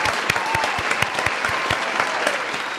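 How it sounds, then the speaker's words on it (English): A studio audience at a podcast taping breaks into loud, close applause, dense clapping with distinct individual claps popping out at a fairly regular pace. "Round of applause."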